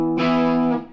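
One distorted electric guitar chord from a riff, struck hard and ringing with a thick, gritty sustain for under a second before it is cut off.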